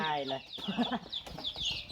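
A hen clucks in short, choppy bursts close by, with a person talking over and between the calls.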